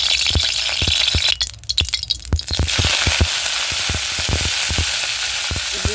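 Gime greens frying in hot mustard oil, a steady loud sizzle broken by rapid scraping and clinking stirs of a utensil against the pan, up close with no talking.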